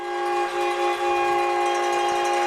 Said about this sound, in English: someone's got a big air horn out here